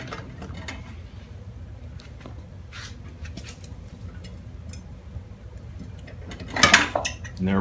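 The rear wheel of a Yamaha FJR1300 motorcycle is wiggled off its driveshaft gears. Quiet metallic clicks and rattles build to one sharper, louder clunk near the end, close by, with no one talking.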